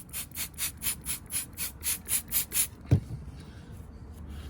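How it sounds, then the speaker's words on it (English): Nine or ten rhythmic back-and-forth strokes as a microfiber cloth scrubs the leather shifter trim of a Porsche Boxster 986 or 996 911, close up, followed by a single soft thump and quiet. "And then we'll load up the microfiber and then give that a scrub."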